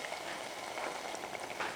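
Broth poured into a hot pan while making strogonoff, a soft bubbling hiss with small crackles, quiet and steady, with no talking.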